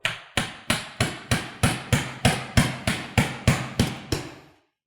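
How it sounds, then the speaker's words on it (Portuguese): A hammer taps a cleaver through a fish bone in about thirteen evenly spaced, sharp metallic knocks, close and clear with no talking. "Vou posicionar o cutelo tocando no osso e de leve vou bater com o martelo."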